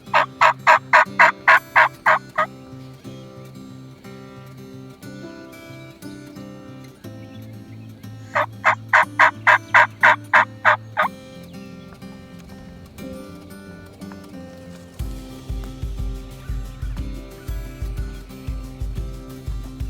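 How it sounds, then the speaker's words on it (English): A wild turkey gobbles during an Oklahoma turkey hunt: two loud, rapid rattling gobble bursts a few seconds apart, over a steady low musical drone. "The one that's gobbling at the moment."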